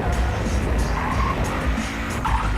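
Police cars skid and squeal their tires in the video game Battlefield Hardline, loud continuous tire screech over rumbling engines, with racing car noise filling the scene.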